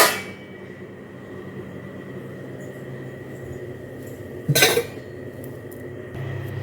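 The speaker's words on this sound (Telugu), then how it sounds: "మొత్తం ఈ గిన్నెలు కూడా సర్దిరేస్తున్నాను." Pots and dishes are stacked away in a home kitchen, one loud bright metallic clang standing out against a quiet background hum, with a faint knock at the start and no voices.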